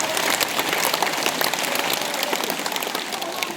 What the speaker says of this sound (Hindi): बजाओ ताली, बजाओ ताली, और बजाओ।